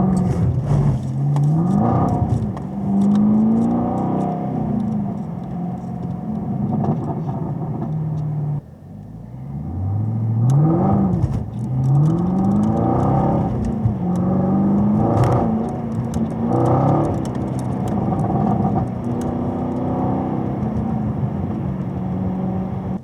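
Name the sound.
car accelerating hard on summer tires in cold weather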